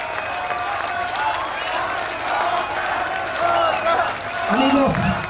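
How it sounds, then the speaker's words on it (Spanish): Concert audience applauding and cheering to send off a band after their set, a steady dense wash of clapping and crowd noise with a few voices calling out near the end. "Un aplauso para despedirlos."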